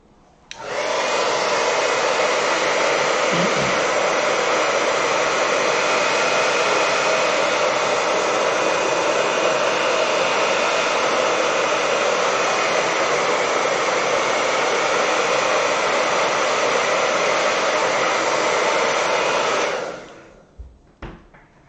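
A hair dryer blows over a watercolor painting to dry it, a loud, steady, continuous whoosh that switches on and runs evenly for nearly twenty seconds before cutting off, followed by a few faint handling knocks.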